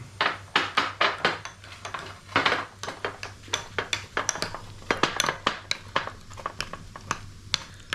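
A spoon mixes crushed garlic and butter in a bowl, with rapid, close, irregular clinks and knocks of metal against the bowl and brief pauses, over a faint low hum, no talking.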